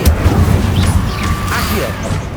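Loud, dense rumbling blasts and crashing debris fill the scene as the Confringo fire spell explodes in the video game Hogwarts Legacy, with whooshing effects layered over the continuous roar.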